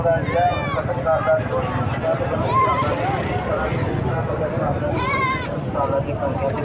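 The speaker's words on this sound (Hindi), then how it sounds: "देखो माशाल्लाह खूबसूरत बकरा 2022 के कुर्बानी वास्ते" Goats bleating repeatedly at a busy Punjabi livestock market ahead of Eid sacrifice, the calls rising over a dense crowd murmur, with people talking throughout.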